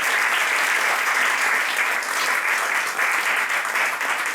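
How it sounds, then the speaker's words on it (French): Sustained, even applause from an audience at an association's general assembly, honoring its volunteers, a dense wash of many hands clapping at a steady level throughout. "je vous demanderai vraiment d'applaudir tous ces bénévoles"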